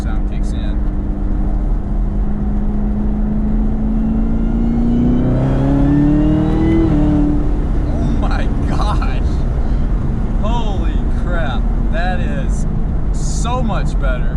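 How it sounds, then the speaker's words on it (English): ZL1 Camaro with a newly fitted cold air intake accelerating from inside the car, a loud engine and intake roar rising into a climbing supercharger whine, with a person talking over it. "So you hear the intake at first,"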